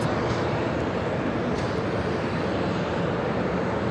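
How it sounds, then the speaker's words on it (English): A United 787-10 Dreamliner takes off from LAX bound for Newark, its jet engines producing a continuous loud, broad roar that holds steady and fairly close throughout. "1731 taking off to Newark on a 787-10 Dreamliner"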